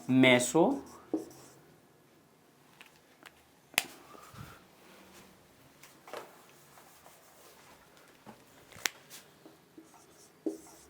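Chalk or marker scratches and taps on a board in a geology lesson on geologic eras, short strokes and clicks spread out, with a voice speaking briefly at the start.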